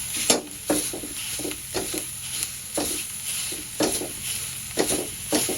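Repeated scraping and pounding strokes on a metal griddle as roasted green chillies are crushed with a stone pestle, coming in a steady rhythm about once a second, close and moderately loud with faint sizzling beneath.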